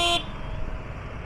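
A car horn gives one short toot, then steady road traffic noise rumbles on the way near Pune.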